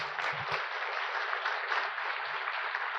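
A crowd applauds state agency staff at a government recognition awards ceremony, steady dense clapping held for the full stretch, loud and close with no pause.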